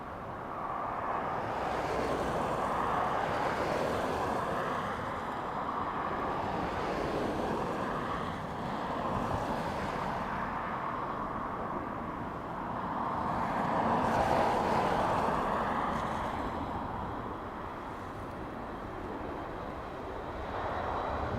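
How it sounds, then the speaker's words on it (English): A fixed-wing airliner comes in to land on runway 28 left at Dublin Airport in gusty wind, a broad distant roar of engines swelling and fading over buffeting wind noise, with no voices. "you are clear to land on runway 28 left"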